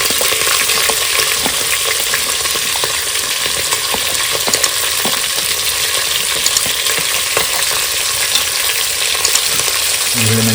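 Onions and green chillies for chicken biryani fry loudly in hot oil, giving a constant close crackling sizzle, while a spoon clinks against the pan at irregular moments as they are stirred.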